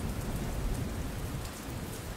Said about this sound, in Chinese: 但是好像外面在下雨